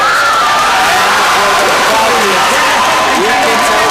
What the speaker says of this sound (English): You can tell this crowd is fired up for him